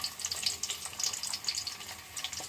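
Chopped garlic fries in a pan with a continuous crackling sizzle, dense popping and spitting near at hand, with no voices.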